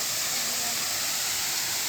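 A waterfall in a jungle-style cafe and restaurant in Udon Thani pours with a steady, even rushing hiss, fairly close and unbroken throughout.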